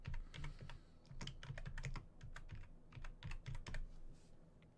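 Keys clack on a computer keyboard as names are typed into a streaming service search, quick irregular bursts of close, soft taps with short pauses between words.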